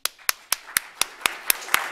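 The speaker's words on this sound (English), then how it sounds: "So I applaud you." Slow, evenly spaced single hand claps, about four per second, crisp and close, from one person at a city beautification awards ceremony rather than a full crowd.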